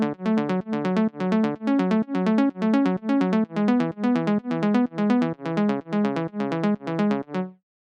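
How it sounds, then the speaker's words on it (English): A bright synth arpeggio from the drop of a trap track plays alone, repeating short plucked notes in a steady, even rhythm that stays loud and close throughout. "in the second part of every drop I added also a little arp that sounds like this"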